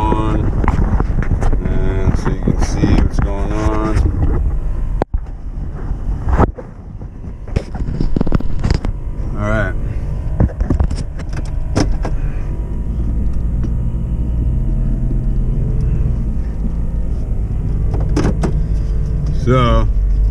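A car cruises down a highway with a steady low engine and road rumble and wind noise, loud and close inside the cabin, while someone talks over it.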